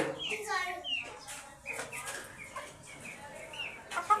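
Hens cluck and squawk in a backyard coop on a hot day, near and fairly loud, overlapping in short bursts alongside a person talking.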